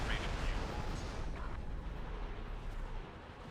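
A missile strikes a starship in the X4 video game, a rumbling explosion swelling at the start and fading into low, booming wash, with a voice talking over it.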